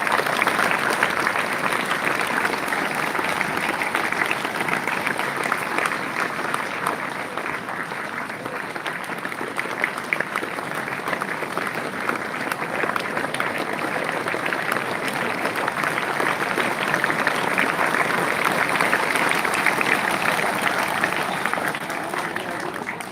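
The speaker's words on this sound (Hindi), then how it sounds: "जोरदार तालियों से स्वागत।" Sustained, loud applause from a large audience at a Hindi religious satsang gathering as guests are welcomed with garlands and turbans, dense continuous clapping throughout with some crowd murmur beneath.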